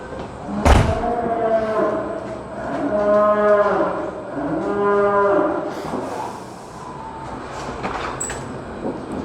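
Dairy cows moo loudly several times in sequence, long drawn-out lowing calls close by, with a sharp clatter near the start and barn noise between calls.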